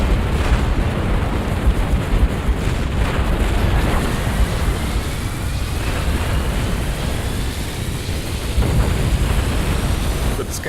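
Massed units firing at a Scarab in Halo Wars, a dense, loud, continuous roar of gunfire and explosions rumbling throughout, with a voice speaking faintly beneath.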